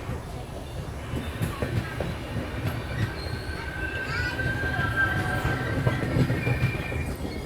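Duronto Express running from Ernakulam toward Mumbai LTT, heard from inside a sleeper class coach: a steady, close rumble of the carriage with wheels squealing and faint rail clatter, plus a muffled voice now and then.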